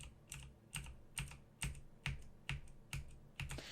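Sharp clicking keystrokes from loud mechanical keyboard switches in a steady rhythm, about two per second, crisp and close with no talking.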